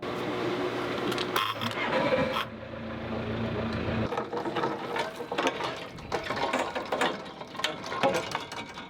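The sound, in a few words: sailboat engines starting up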